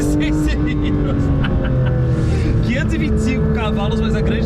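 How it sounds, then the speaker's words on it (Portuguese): A Porsche 911 GT3 RS flat-six engine roars at steady high revs on a race track, loud and close throughout, with rising and falling harmonic tones and a voice talking over it. "Já tô na pista com o GT3 RS, olha o ronco desses 6 cilindros."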